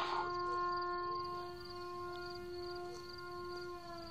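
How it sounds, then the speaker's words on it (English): A steady wailing air raid siren tone holds throughout, sustained and fairly distant, with a faint low background rumble. "Damn air raid siren."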